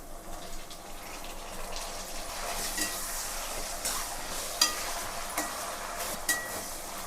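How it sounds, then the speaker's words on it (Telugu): Chopped tomatoes frying in a pan for Andhra-style stuffed brinjal curry, a soft continuous sizzle with occasional stirring scrapes and small clinks, steady and fairly quiet throughout. "ఇందులోనే మనం టమాటా అయితే వేసుకుందాము టమాటా అయితే వేస్తున్నాను"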